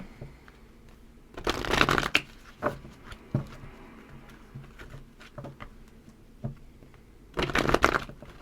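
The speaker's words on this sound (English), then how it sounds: "I'm struggling shuffling this." Two bursts of playing cards being riffle-shuffled, with lighter taps and card handling in between; close and crisp, no talking.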